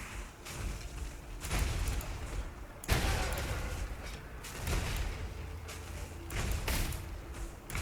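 Flameblast explosions in Path of Exile, a fantasy action game: repeated heavy booming thuds and blasts, several loud bursts with rumbling tails across the stretch, no talking.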